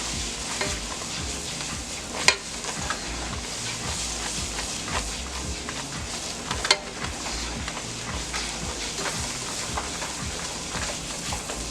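Macaroni and cheese stirred in a pot over medium heat, a continuous wet sizzle with repeated spoon scrapes and a couple of sharp knocks against the pot, no talking.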